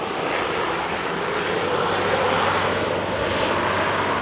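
A fixed-wing airliner passing low directly overhead at Auckland Airport, a loud, close, broad jet roar that holds steady and swells slightly across the pass, with no talk over it.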